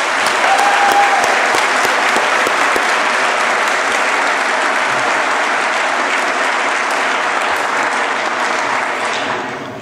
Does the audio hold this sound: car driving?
no